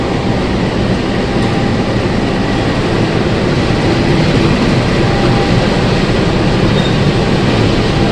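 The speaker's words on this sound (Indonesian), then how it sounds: "Ini lokomotifnya dilangsir karena nanti mau berangkat lagi ke arah Bogor." Locomotive shunting at Sukabumi railway station, a loud, steady diesel rumble and rail noise continuing throughout with no pauses.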